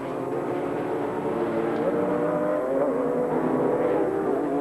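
A racing car runs down the back straight at Amaroo Park in a 1989 race, its engine note a loud, steady, sustained drone throughout without any voices.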